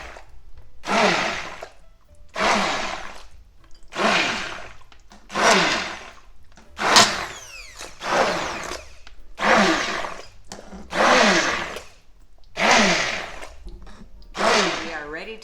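A hand blender breaks up tomatoes for vodka sauce in roughly ten loud whirring bursts of about a second each, separated by short pauses, close by.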